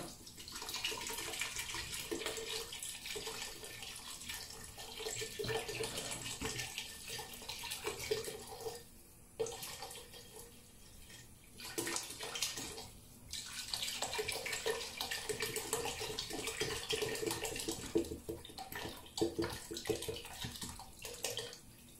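Water from a tap pours steadily into a pot of harira, traditional Moroccan soup, for about twenty seconds, a continuous broadband rush with brief dips and no talk.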